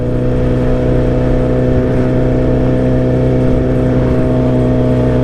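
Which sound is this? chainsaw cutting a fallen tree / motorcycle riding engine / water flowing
motorcycle riding engine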